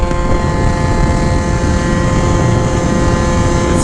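The engine of a Yamaha JOG 3kj scooter on stock gears drones at full speed, a loud, steady, high-revving buzz mixed with heavy wind rush that runs continuously without a break.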